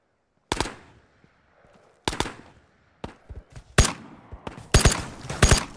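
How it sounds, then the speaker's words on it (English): Bursts of AI enemy gunfire in the Ghosts of Tabor shooter game, fired from down a hill: sharp shots come in irregular clusters, some single, some doubled, growing louder and denser toward the end, with no talk. "There's an AI down the hill shooting at us."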